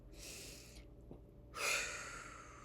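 Two slow, deep breaths, a long airy inhale followed after a pause by a fuller exhale, close to the microphone with no talking.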